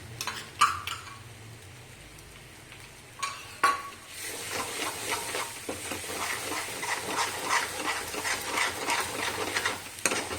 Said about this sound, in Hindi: जब मसाला कलर चेंज कर लेता है तो समझो कि मसाला अब अच्छे से भून चुका है